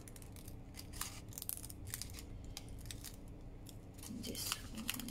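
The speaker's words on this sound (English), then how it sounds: "we just need to cut these two small flaps out" Scissors cutting the small flaps of a paper envelope, heard as a series of close, crisp snips over quiet room hiss, with no talk.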